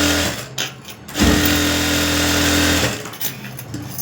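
An electric sewing machine runs in one steady, fairly loud burst of stitching along a folded half-inch fabric strip for a blouse back neck, with short quieter pauses before and after.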